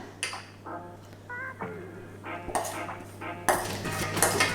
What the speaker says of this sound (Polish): Teraz przeleję to do formy.